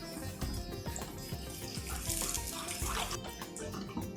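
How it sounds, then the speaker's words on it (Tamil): About a cup of water poured into a cooking pot while making beetroot moong dal halwa, a continuous close splashing and gurgling stream with faint sizzling beneath. "1 கப் கிட்ட தண்ணி விடுறேன்."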